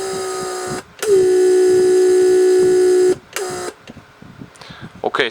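A small electric vacuum pump for a Mercedes S350's door locks runs with a steady buzzing whine for about two seconds, then shuts off, leaving faint clicks and ticking behind.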